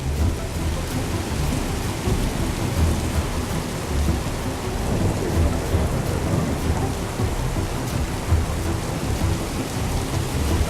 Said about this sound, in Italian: Una grandinata.